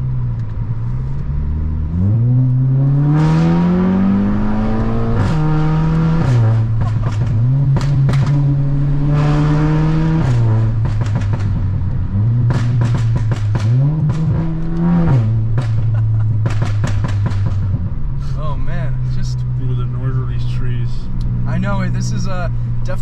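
A tuned Audi A3 with an IE tune and an aftermarket downpipe exhaust, revved up and dropped back several times in close, loud, throaty blips over a steady idle drone. Someone may be talking faintly underneath.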